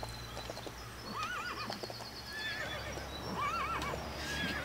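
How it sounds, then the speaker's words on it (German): A horse in the Lego City Undercover video game neighs repeatedly with shrill, wavering whinnies, several close, loud calls over a soft clip-clop and low game ambience. "Wie gequältes Pferd hört sich's an"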